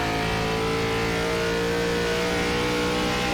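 A Gen 4 NASCAR stock car engine in the iRacing simulator pulls hard under acceleration, a loud, steady, buzzing harmonic drone with no talk over it.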